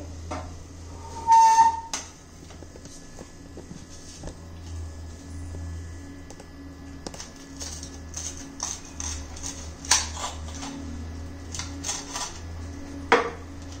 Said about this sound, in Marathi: हे पहा, तुम्हाला आता मी कापून दाखवते